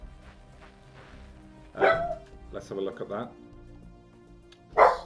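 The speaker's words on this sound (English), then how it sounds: "Sorry about my dog, give me a second." A dog barks indoors a few times in separate loud bursts, close by, while someone talks over a video game in the background.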